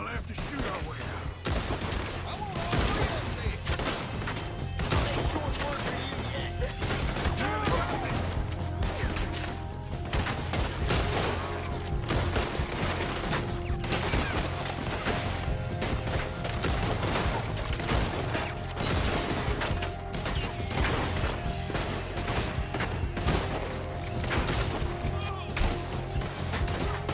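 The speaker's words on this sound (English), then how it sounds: "I'll have to shoot our way out." Video game shootout with dense, continuous gunfire, rapid automatic bursts and loud crashing impacts filling the whole stretch, while voices occasionally speak underneath the shooting.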